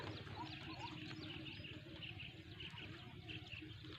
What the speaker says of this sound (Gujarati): જળ કુકડી બોલી રહી